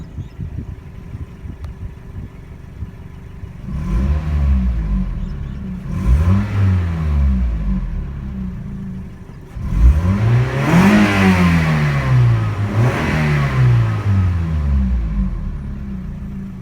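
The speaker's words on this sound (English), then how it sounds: "that 4-cylinder engine rev." A 2000 Toyota Celica GT four-cylinder engine idles, then revs up several times in rising bursts, each climbing and falling back, the last revs longer and louder.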